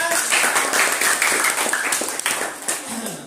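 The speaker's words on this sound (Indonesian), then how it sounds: "Tepuk tangan dulu semuanya" A classroom of schoolchildren claps together in an uneven, bursty patter, with children's voices calling out over the clapping.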